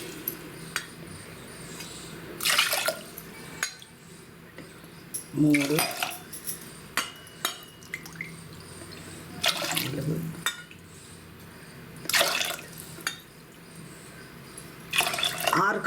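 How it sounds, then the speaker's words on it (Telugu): Water is poured into a pot of washed moong dal and rice for khichdi, coming in several splashing bursts with clinks of the vessel between them while someone speaks over it. "ఇందులో 6 కప్పుల నీళ్లు పోసుకోవాలి."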